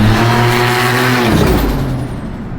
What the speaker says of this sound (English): I hear turbos and the blow off, and I love that sound.